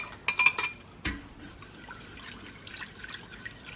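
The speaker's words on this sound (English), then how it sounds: "I'm gonna go ahead and add all of my seasonings and then give that a whisk." A whisk clinks against a slow cooker crock while honey and seasonings are stirred, with a quick burst of light metallic taps followed by one sharper clink and then quiet.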